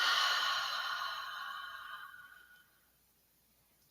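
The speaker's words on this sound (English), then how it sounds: "an exhale out through the mouth" A long, slow exhale through the mouth during a yoga breathing exercise, a soft airy breath close to the microphone that fades out over about three seconds, followed by quiet.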